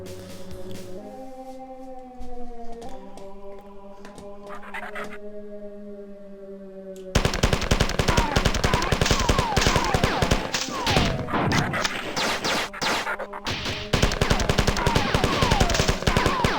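Magnum pistol gunfire in the Marathon video game: dense, rapid, loud shots crackle continuously over in-game music and tones during the second half, after a quieter stretch of sustained synth notes.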